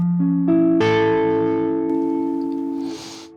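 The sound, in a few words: distorted electric guitar chord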